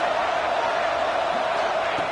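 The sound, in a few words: football stadium crowd cheering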